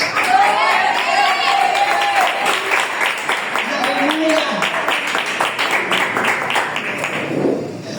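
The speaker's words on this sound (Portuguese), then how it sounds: "Pode se assentar e aplauda o Senhor" A church congregation applauds the Lord after being seated, sustained clapping from many hands with voices calling out and singing over it, steady throughout before easing at the end.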